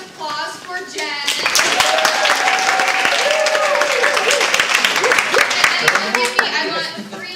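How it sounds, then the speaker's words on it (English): An audience in a classroom session breaks into loud, sustained applause lasting several seconds, mixed with cheering and children's voices, fading at the end. "We want to give another big round of applause for Jen."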